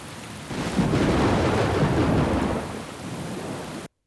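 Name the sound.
rain and thunder outside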